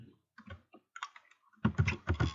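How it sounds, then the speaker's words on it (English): Fingers type on a computer keyboard, sparse clicks at first and then a denser flurry of close keystrokes near the end. "I'm going to read what I'm typing."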